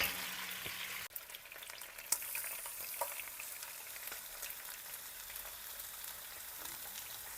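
Carrot, celery and onion frying with oxtail in a pan give off a steady, close, crackling sizzle with a few sharp stirring clicks and clatters, no talking.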